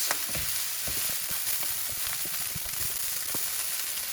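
Cooked rice sizzles in a hot pan after vinegar is added, a steady bright crackle with scattered scraping stir strokes throughout, close and fairly loud, with no talking.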